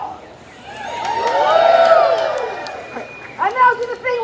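A crowd cheers and whoops at the finale of a rainy outdoor Cirque du Sewer show, with the roar swelling in the middle and then breaking into scattered shouts and voices near the end.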